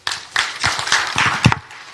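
Scattered, uneven claps from a crowd at a Malawian youth engagement event, heard as irregular bursts that build loosely and then thin out, fairly close.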